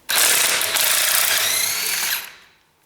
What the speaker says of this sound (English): See if I can break that socket